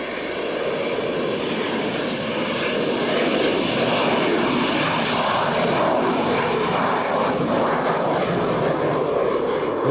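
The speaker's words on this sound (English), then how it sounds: "its Rolls-Royce engine is specially configured so that the exhaust can be vented downwards" Harrier jump jet with a Rolls-Royce engine vectoring its exhaust downward, a loud, steady broadband roar that holds at near-constant intensity throughout, close and dense.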